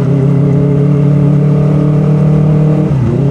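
Kawasaki ZX-25R Limited Edition motorcycle engine held at a steady, loud high-pitched drone on a village road, then the revs dip briefly near the end as the throttle is eased.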